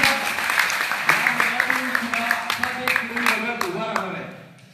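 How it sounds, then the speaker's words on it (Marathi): An audience at a felicitation ceremony for athletes claps for a wrestler, a burst of brisk applause that thins and fades toward the end while a voice talks over it. "त्यांच्यासाठी जोरदार टाळ्या करा"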